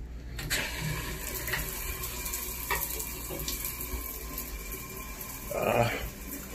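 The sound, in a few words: shower water running after turning it on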